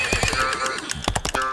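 A horse gives a loud, shrill whinny that wavers and fades, followed by a few sharp hoof-like thumps, all close and with no talking.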